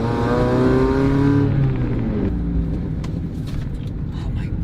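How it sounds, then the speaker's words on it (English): Mazda Miata engine rev during a heel-toe downshift: a loud, close engine note that climbs and then falls away as the throttle is blipped, leaving a quieter rolling drone with road noise. "you're rolling your heel to blip the throttle as you downshift"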